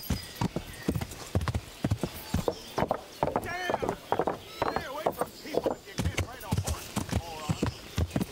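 A horse's hooves clip-clop in a steady trotting rhythm in the video game Kingdom Come: Deliverance, clear and close, with someone talking over the hoofbeats.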